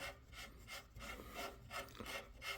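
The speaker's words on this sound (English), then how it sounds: "We're going to take our nut, we're going to start screwing it on." A nut is threaded by hand onto an M16A4 clone rifle receiver during assembly, giving a close, quiet scraping rasp that repeats in a steady rhythm of short turning strokes.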